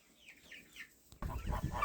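Chickens released outside give a few soft clucks close by, followed by a louder rustling, scuffling burst as the birds move about; no one speaks.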